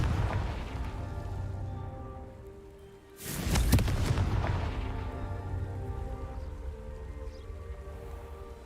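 Confringo fire-blast spell exploding in the video game Hogwarts Legacy, a sudden loud burst midway that swells over a rumbling, droning game backdrop and then slowly decays.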